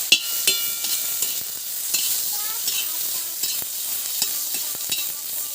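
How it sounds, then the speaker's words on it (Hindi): Chili and garlic sizzle in a hot pan, a steady crackling fry with repeated sharp scrapes of a spoon stirring, close by and without speech. "चटनी बनाने के लिए मिर्च और थोड़ी सी लहसुन भी हम भून लेते हैं"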